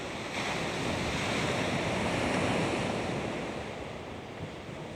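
Strong wind and ocean surf during a DJI Neo drone flight out over the sea make a steady, loud roar of rushing noise that swells midway and eases slightly toward the end.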